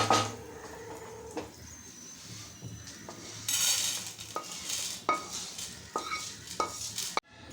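Chutney ingredients, including green chilli, fry in oil in a pan. A soft sizzle runs underneath while a utensil stirs and clinks against the pan in scattered, sharp knocks, with a brief louder scrape near the end.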